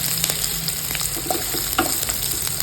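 Chopped onion fries in a pan with red chili powder while making fodnicha bhat, a tempered rice dish: a steady, close sizzle with light crackles and a few stirring scrapes, with no voices.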